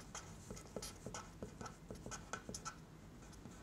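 A pen scratching across paper or a board while a power triangle diagram is sketched, a series of quick, quiet strokes and taps in an irregular rhythm, close and soft with no talking.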